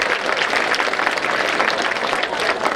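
An audience claps together during a religious discourse at the Sri Vedadri Lakshmi Narasimha Swamy temple, making a dense, steady wash of applause that holds at an even level from start to finish.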